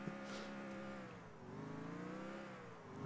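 A car engine in Grand Theft Auto 4 revs steadily throughout, a continuous mid-pitched drone that rises and falls slightly, close and moderately loud with no talking.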